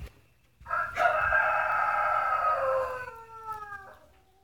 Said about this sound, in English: Roosters really will not shut up today.